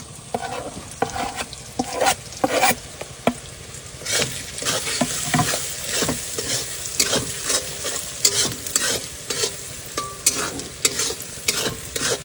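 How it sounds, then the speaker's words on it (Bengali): Ground spices (black pepper, turmeric, chili powder, coriander, Kashmiri chili and cumin) fry in a pan, sizzling close by, while repeated stirring scrapes come in uneven bursts over a constant crackling hiss. "আমার সমস্ত মশলা সুন্দর করে ফ্রাই করে নিয়েছি"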